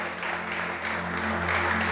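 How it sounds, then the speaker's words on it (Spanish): A church congregation claps in steady, dense applause that carries through a room with some hum underneath, and no one speaks. "Dale ese aplauso grande al Rey."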